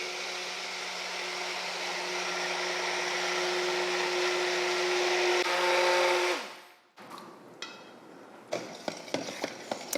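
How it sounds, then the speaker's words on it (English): A stick blender hums steadily on a low setting for several seconds while mixing homemade soap, then shuts off, leaving a few sharp clicks and light knocks. "Now I'm gonna hold it at the bottom and turn it on low."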